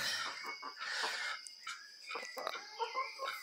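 A chicken clucking and squawking nearby in short, agitated calls, fairly faint, with no talking.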